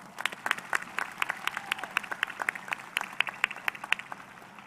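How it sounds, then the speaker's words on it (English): Graduation-day crowd clapping in an arena for high school assistant principals, counselors and campus staff, with sharp individual claps standing out from a loud, sustained ovation that rolls on throughout. "Please, let's give them a round of applause"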